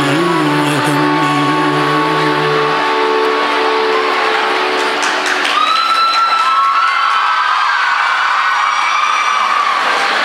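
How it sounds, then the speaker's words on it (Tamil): College students shouting and cheering together as a song ends, a loud continuous crowd roar with some sustained musical tones fading out early on. "இப்போ நீங்கள் கூச்சல் போடுறது கரெக்டு"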